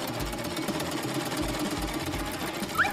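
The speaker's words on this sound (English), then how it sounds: "My sewing machine is always there for me!" A domestic sewing machine runs steadily with a low mechanical whir and rhythmic thumping pulses, fairly close and loud with no talking.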